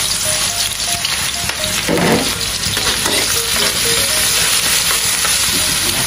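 Garlic fries in a hot pan, a loud, continuous sizzle close up, with stirring scrapes mixed into the hiss from start to finish.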